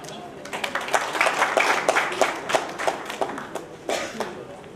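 Audience applause at the inaugural session of the Kalinga Literary Festival, a hall full of people clapping steadily for several seconds with scattered sharper claps, fairly close and loud.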